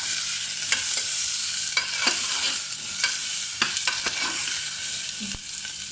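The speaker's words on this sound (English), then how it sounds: "Just give a stir" Ginger, garlic and shallots fry in a pan with a loud continuous sizzle while a utensil stirs them, scraping and clinking against the pan at irregular intervals.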